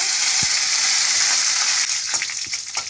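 White mustard seeds, white cumin and home-grown curry leaves fry in hot oil, a steady bright sizzle throughout with a few soft knocks and stirring clicks near the end.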